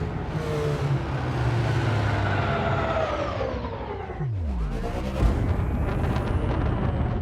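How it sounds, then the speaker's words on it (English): The Fer-De-Lance spaceship's boost engine in Elite Dangerous: a deep, reverberating roar swells and holds, then sweeps down and surges again in a powerful futuristic boost, loud and continuous. "The reverberating feel you get from hearing the acceleration reminds me of a futuristic Mustang muscle car."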